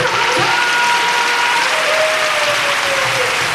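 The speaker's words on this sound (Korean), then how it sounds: "박수!" Seniors in a singing class clap together in steady, dense applause that fills the room from start to finish, with faint cheering mixed in.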